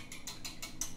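Eggs being whisked in a bowl for black cake, heard as a quiet second of four quick, evenly spaced clicking strokes of the whisk.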